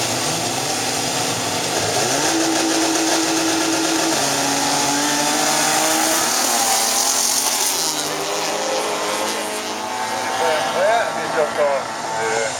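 Rally car, a four-wheel-drive Golf, accelerating away with rising engine revs and gear shifts, loud at first then fading as it moves off, under continuous commentary.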